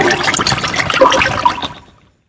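Oil is stirred into water in a large vessel, making a loud, close churning slosh and splashing that runs steadily before quickly trailing off into silence.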